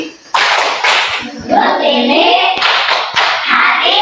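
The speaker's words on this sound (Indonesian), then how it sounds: "Sebelum pulang sekarang kita buat tepuk terima kasih." A school class doing a thank-you clapping routine, loud rhythmic group claps in short bursts mixed with children and a teacher chanting along, close and lively.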